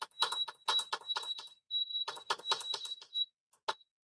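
Button presses while setting a heat press timer for a mug, a quick run of clicky taps with short high beeps, a brief pause, then another burst of presses and one final beep, near and alone.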